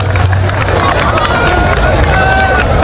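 A large gathered crowd at an outdoor public religious debate, a steady loud hubbub of many overlapping voices murmuring and chattering without pause.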